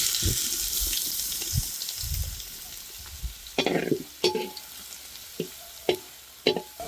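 Soft sizzling of chopped garlic frying in hot oil, followed by sharp clinks and taps of a utensil stirring in a pan, close by.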